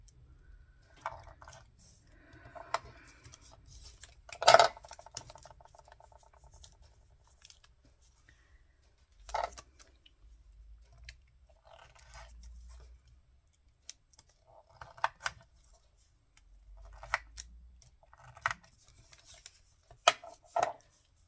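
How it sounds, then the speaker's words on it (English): Scissors make sparse, crisp snips and rustles as they trim a paper lace journal card, with isolated cuts separated by quiet pauses. "this pair of scissors, I think, just to finish that off"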